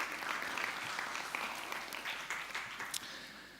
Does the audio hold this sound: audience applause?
yes